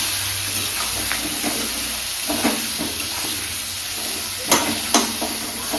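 Hilsa fish head seasoned with salt fries in a pan, giving a steady, fairly loud sizzle and hiss broken by a few sharp clinks of a utensil against the pan.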